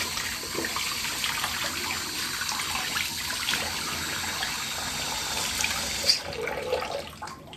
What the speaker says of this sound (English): I'm going to rinse this underwater